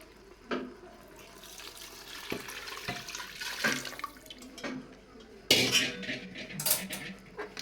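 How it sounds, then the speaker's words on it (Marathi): Heated water poured into a pot of chicken biryani in a home kitchen, a clattering, splashing stream with metallic knocks against the vessel, loudest in bursts near the end, with no talk. "त्यानंतर आता गरम केलेलं पाणी घालायचंय आहे"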